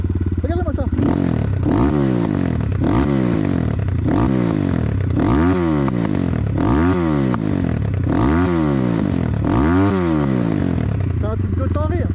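A BTC T18 motorcycle engine running on its first ride, loud and close, with repeated rising and falling revs in a steady rhythm, a voice talking over it in places.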